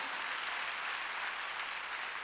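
A church congregation at a Wednesday worship service claps in a steady, even wash of applause, moderately distant and fairly soft, with no talk over it.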